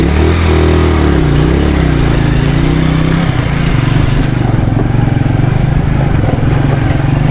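Motorcycle engine running loud and close throughout, a steady mechanical drone with a slight wavering pitch early on, heard alone without talk.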